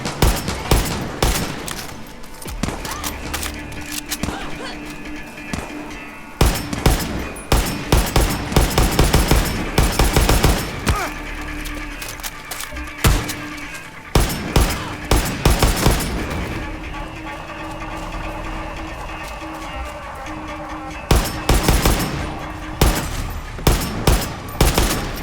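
Gunfire from a weak gun in Far Cry 6, with rapid shots in repeated clusters and bursts, loud and close, and some pauses between volleys over game ambience.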